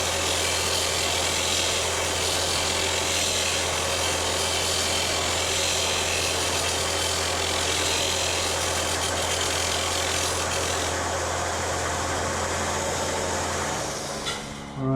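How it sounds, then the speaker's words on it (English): Steel is ground on a grinding cone at a prosthetics bench, a steady, loud, harsh whirring grind with a constant motor hum that runs unbroken for about fourteen seconds before spinning down. "we're going to grind some steel"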